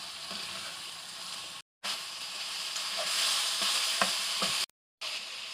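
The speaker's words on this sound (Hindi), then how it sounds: "चिकन को हम 3 से 4 मिनट के लिए अच्छी तरह कुक कर लेंगे" Chicken frying in a pan, a close, continuous hissing sizzle with a few soft stirring knocks, broken by two brief cuts to silence.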